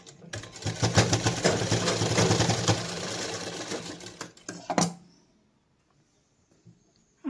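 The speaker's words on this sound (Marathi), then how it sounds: "सरळ आपल्याला शिलाई मारून घ्यायची कोपरा ते कोपरा शिलाई मारायची" A sewing machine stitches corner to corner across leftover dress fabric for a handbag, whirring steadily up close for several seconds before stopping, with near silence after.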